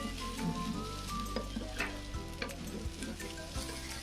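Steady sizzling and scraping of meat and spices being stir-fried down in a rice cooker pot, with a low hum underneath and occasional clinks.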